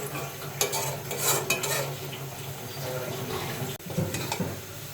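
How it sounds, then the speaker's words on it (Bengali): Kalmi greens with shrimp being stirred in a pan, a utensil scraping and clinking against the metal in steady strokes over a soft background sizzle, close and moderately loud with no talking. "এখন আমি একটু নাড়াইয়ে দিচ্ছি"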